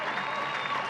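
A stadium crowd at a youth football friendship game, on their feet applauding, steady distant clapping under a voice talking.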